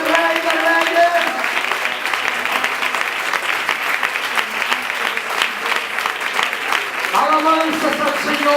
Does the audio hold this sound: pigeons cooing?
no